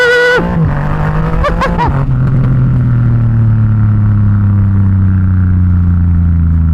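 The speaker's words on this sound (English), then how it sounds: "It sounds pretty good, like in a motorcycle." A straight-piped Triumph Rocket 3 inline-three motorcycle engine blips sharply a few times, its loud raspy revs rising and falling, then settles into a deep, throbbing idle rumble that carries on close and steady.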